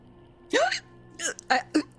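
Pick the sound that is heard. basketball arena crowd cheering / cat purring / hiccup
hiccup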